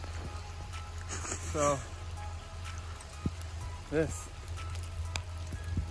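Hail falling outdoors on a spring day in Squamish, a steady broadband patter like sizzling rain that runs the whole way through, with someone talking over it.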